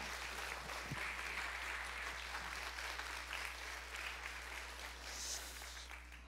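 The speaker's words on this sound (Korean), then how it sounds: "목사님 모실 텐데 이제 박수 해주시면 좋겠습니다" Church congregation at an early-morning revival service applauding to welcome the pastor, a steady faint wash of clapping heard from a distance over a low hum.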